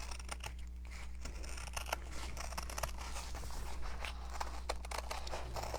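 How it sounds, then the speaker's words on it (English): Scissors snipping out a paper circle for a boho pumpkin craft, a steady run of short crisp cuts and faint scraping, close and fairly quiet over a low constant room hum, no talking. "I'm gonna just cut out another circle"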